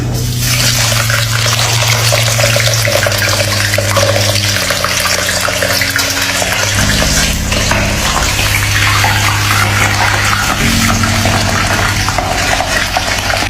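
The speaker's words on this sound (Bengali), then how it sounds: "এখন মাছটা পাও দিয়ে তুলে এখন কড়ার মধ্যে ফস করে দিয়ে" A heavy fish head sizzles loudly in hot oil in a wok, turned by foot, giving a steady, dense hiss with music playing underneath.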